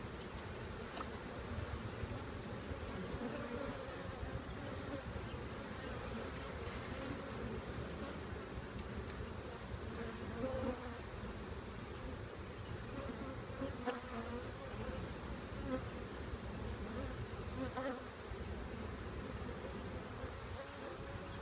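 Honey bees buzz densely and continuously around a hive during a trap-out at a radio tower, a steady, moderately close drone of many insects with slight swells, no voices.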